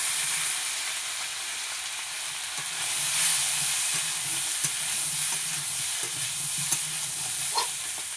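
Taro pieces sizzle in oil with ginger and cumin paste for a village-style rui fish curry, a soft, even frying hiss with light stirring scrapes and no speech.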